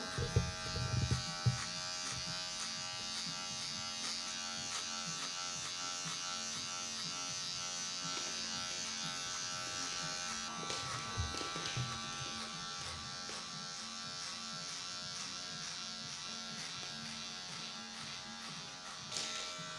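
Electric hair clippers buzz steadily and close up while cutting a flat top haircut with the blade closing down against a comb, running nearly continuously with a few brief bumps and no talk.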